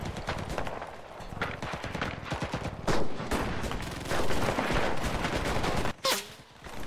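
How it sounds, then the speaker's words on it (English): Gunfire in the Enlisted video game: repeated shots and bursts over constant battlefield noise and footsteps, with a loud close crack near the end. "Okay, somebody's shooting me."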